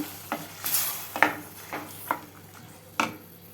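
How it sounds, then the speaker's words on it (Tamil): A spoon stirs soaked cowpeas into a thick kulambu in a metal pot, several distinct scraping strokes against the pot spaced about a second apart with a faint sizzle underneath, close and clear without speech. "போட்டுட்டு நல்லா கலந்து விட்டுக்கோங்க"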